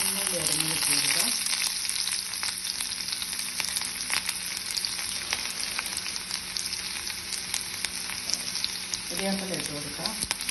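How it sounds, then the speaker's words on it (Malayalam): Chopped shallots frying in a tablespoon of oil after mustard seeds have spluttered, a loud, steady sizzle throughout with brief stirring at the start and end. "കടുക് പൊട്ടി നമുക്ക് ചമ്മന്തി അരിഞ്ഞ് ഇട്ട് കൊടുക്കാം."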